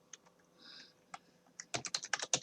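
Fingers typing on a computer keyboard while entering Excel VBA code: a few scattered keystrokes, then a quick close burst of clicking keys, with no talk.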